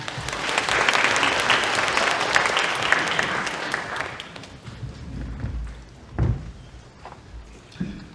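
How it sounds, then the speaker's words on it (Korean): A large audience in a roughly 500-seat hall at a Gwangju Science High School admissions briefing applauds loudly for several seconds, then the clapping fades into a few scattered thumps and shuffling sounds. "큰 박수 부탁드립니다."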